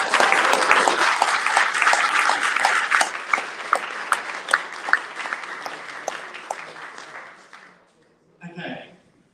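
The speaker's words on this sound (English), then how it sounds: "Let's give a round of applause to everyone." Audience applause for startup presenters at a weekend startup event, dense clapping for about eight seconds with a few sharper claps near the end, then fading out before a brief burst of voice.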